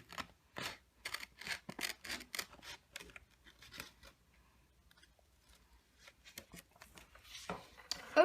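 Scissors snip paper for an origami crane, a quick run of sharp close cuts, then quiet rustling and a few more snips near the end.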